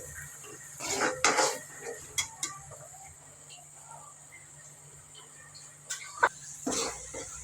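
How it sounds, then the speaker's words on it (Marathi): A spice paste is sautéed in oil in a pan for a Maharashtrian shev bhaji, with a soft sizzle and a hum beneath sharp scrapes and clinks of a utensil against the pan in irregular bursts. "हे पहा, असं याला तेल सुटेपर्यंत परतवून घ्यायचं या पेस्टला आपण बनवलेल्या।"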